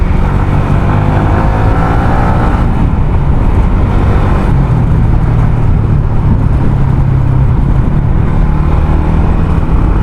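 A Yamaha Sniper 150 motorcycle fitted with a stage 1 camshaft revs hard and continuously up close, its loud engine drone climbing through the gears.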